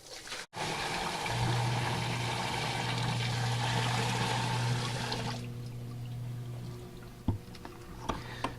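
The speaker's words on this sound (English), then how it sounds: "What we'll do is just pour this water right in." Water pours steadily from a bucket into a sump pit with a broad rushing splash for several seconds, then a quieter trickle and a few small clicks as the sump pump activates.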